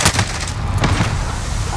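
Pistol shots in the shooter Call of Duty Modern Warfare, a few sharp cracks close together at the start and one more a moment later, loud against a noisy game background.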